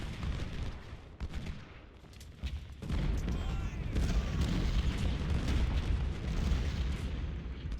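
Musket volleys and artillery fire from a Civil War battle at Perryville in the video game Ultimate General: Civil War, a continuous rumbling roar of distant booms and crackling gunfire, growing denser and louder partway through.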